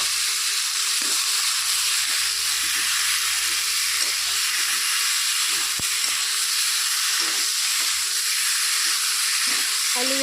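Spices frying in a pan as boiled potatoes are added: a soft, continuous sizzle, steady hiss throughout with faint scattered crackles and no talking.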